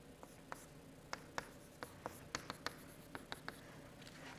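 Chalk or marker strokes on a board during a mathematics lecture, a string of short, crisp scratches and taps in an irregular rhythm, fairly close and quiet, with faint room noise behind them.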